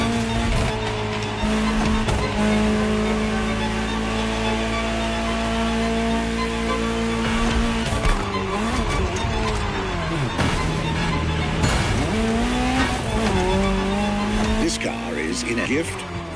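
Ferrari 250 GTO sports car in a racing video game, engine droning and rising through gears with tire squeals and shifts, while a voice talks over it.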